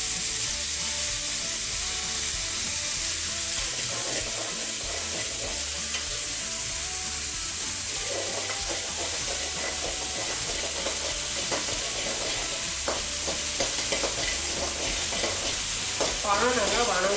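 Tomatoes for village-style pepper tomato kuzhambu sauté in a pan with a loud, steady sizzle and hiss, while stirring scrapes come through near the end.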